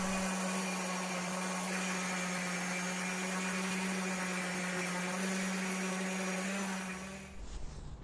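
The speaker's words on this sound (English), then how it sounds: "So time for a bit more sanding and shaping." A power sander whines steadily while shaping the wooden handle of a restored Viking axe, a loud continuous tone that winds down near the end as the tool is switched off.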